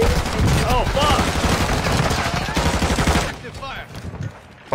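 Rapid automatic gunfire in the shooter game Warzone 2.0 rattles in dense bursts, loud and close, then breaks off into sparser shots, with a voice shouting over it.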